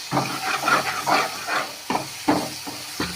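Masala powders hit hot oil in a pan for a potato kurma, giving loud bursts of hissing sizzle in several uneven surges that rise and fade, close by and with no talking.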